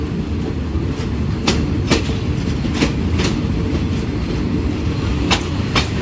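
A Thai passenger train, service 445 between Lang Suan and Surat Thani, rolling steadily along the rails, loud and close, with a constant rumble and periodic sharp clacks from the wheels.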